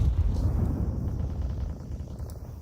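Counter-Strike grenades going off on players, a low rumbling blast decaying over a couple of seconds, moderately loud with no talk over it.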